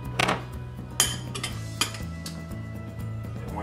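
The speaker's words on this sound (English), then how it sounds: "We're gonna stir all that together." Squirrel Brunswick stew in a big pot being stirred, with close metallic clinks and knocks of a utensil against the pot over a low hum, no talk.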